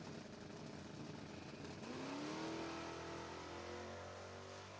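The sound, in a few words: drag race cars launching, Mustang in the race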